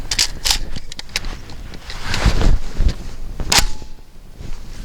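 A Zastava M90 AK-style rifle fires several sharp, loud single shots at irregular intervals outdoors, each followed by brief echo, with no talking.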